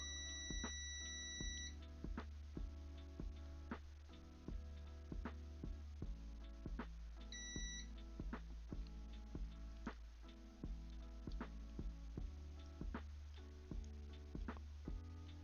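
A multimeter in continuity mode gives regular electronic ticks and short beeps repeating steadily at low volume over a faint hum, with a couple of longer high tones near the start.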